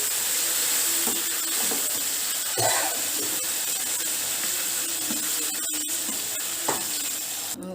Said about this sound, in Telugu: ఇప్పుడు గోంగూర వేసుకొని కలుపుకుందామండి